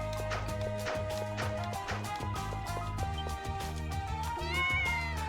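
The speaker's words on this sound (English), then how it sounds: "Aw, cat." A cat meows in the video game Ys Celceta, mixed into steady, busy background music with rhythmic percussion that runs throughout.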